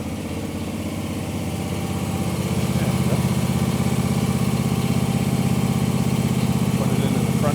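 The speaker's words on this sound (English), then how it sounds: "we're loading up the first machine here" A lawn care machine's engine runs steadily as it is loaded onto a trailer at a job site, a close, continuous droning idle that grows slightly louder and fuller partway through.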